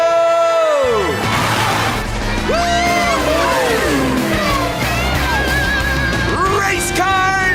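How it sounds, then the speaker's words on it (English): Cartoon race car engines revving loudly in a children's animated show, with swooping rising and falling engine whines layered over music and excited voices. "Race cars, rev it up!"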